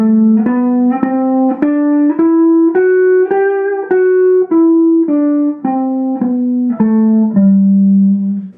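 A guitar plays the lower octave of a G-shape major scale as single clear picked notes, climbing step by step and then descending in an even rhythm, loud and close with no talking.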